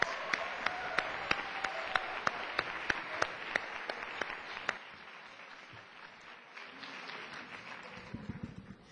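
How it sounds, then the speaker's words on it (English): Applause for poster contest winners at a Glendale neighborhood meeting, faint and distant, with sharp regular ticks over the clapping for about five seconds before it thins to a quieter murmur. "Let's give a big round of applause as they head down to their seats."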